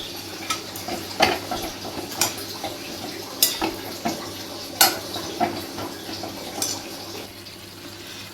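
Tomatoes for a coriander seed chutney are sautéed in a pan, with a soft continuous sizzle beneath repeated sharp clinks and scrapes of a spoon stirring against the metal at irregular intervals.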